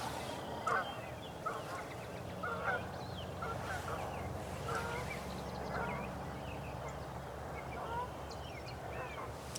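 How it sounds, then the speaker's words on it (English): Distant wild turkey gobbles and other fowl calls rise in scattered bursts over a low outdoor hum, faint and far off. "I just heard some more gobbling over there."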